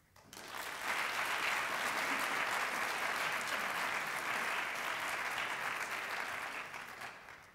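Audience at a 2016 debate tournament opening ceremony applauding the organizing team, a full round of many hands clapping that swells quickly, holds steadily for several seconds, then tapers off.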